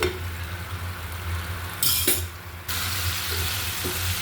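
Tomato pieces frying with spices in a pan for a hilsa roe curry, a steady close sizzle broken by a couple of brief stirring clatters against the pan.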